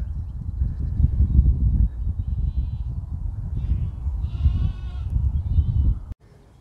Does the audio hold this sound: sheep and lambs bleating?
yes